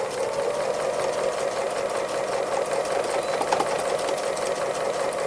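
A sewing machine runs steadily through free motion embroidery, stitching a hare and flower design with a fast, even mechanical hum and rattle that holds at a constant close level throughout.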